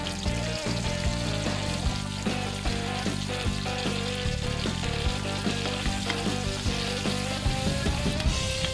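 Onions sautéing in a pan for Filipino pakbet (ginisang gulay), a steady, close sizzle of frying that runs unbroken throughout, with faint stirring clinks and scraping, alone with no talk.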